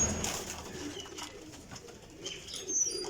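High flyer pigeons coo softly in the background, low murmuring calls mixed with faint chirps and scattered rustling, with no voices.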